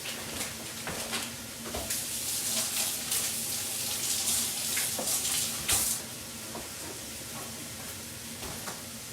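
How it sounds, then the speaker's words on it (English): Water runs steadily from a kitchen sink tap during handwashing, a close, continuous hissing splash with small shifts as hands move under the flow. "Just gonna wash my hands quick."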